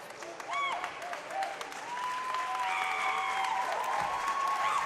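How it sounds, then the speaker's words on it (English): Applause at a high school swimming meet, steady moderate clapping from spectators in an echoing pool hall, with whistles and shouting voices cutting through. "And a big round of applause."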